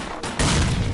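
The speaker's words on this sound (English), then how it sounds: "Who the fuck threw that grenade?" A grenade explodes in the S.T.A.L.K.E.R. Clear Sky shooter game, a sudden loud broadband boom about a third of the way in that stays heavy with rumbling debris through the rest of the moment, with no talk.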